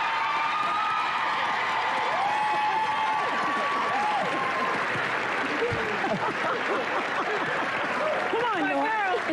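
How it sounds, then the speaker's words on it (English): A large audience claps, hoots and hollers in a dense, sustained wash of applause and cheering, with a voice talking faintly underneath. "They're clapping, hooting, and hollering"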